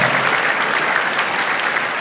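An audience at a concert applauds steadily: dense, even clapping from many hands that holds at a constant loud level for the whole stretch, with no voices standing out.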